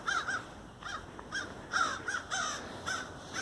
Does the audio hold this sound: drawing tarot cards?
no